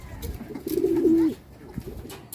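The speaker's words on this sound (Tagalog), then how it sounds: "That's only for Flyer and Papa Flyer and Auntie and the other pigeons." Pigeons coo nearby, one soft throaty rolling call rising clearly above faint background murmur, followed by quieter rustling.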